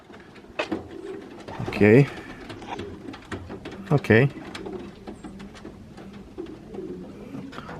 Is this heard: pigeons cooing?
yes